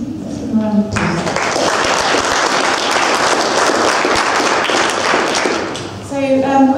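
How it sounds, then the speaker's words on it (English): A conference audience applauding a panel, dense sustained clapping for about five seconds, with a voice speaking before it starts and as it fades. "Let's give them a round of applause."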